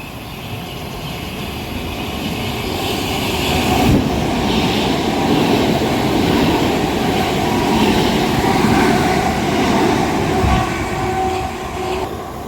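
A fast Thameslink train races through Horley station on a through platform with a loud, sustained rushing roar and rattle that builds and holds for over ten seconds, close by, with no voices.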